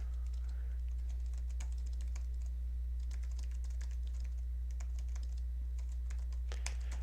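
Typing on a computer keyboard, irregular bursts of quick light key clicks, close and fairly faint over a steady low electrical hum.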